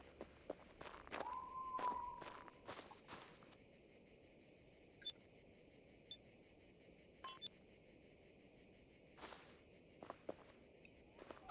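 In a prehistoric hunting video game, heavy dinosaur footsteps thud as irregular soft impacts over a quiet backdrop of chirping insects and crickets. Occasional faint electronic beeps are also audible, and no one speaks.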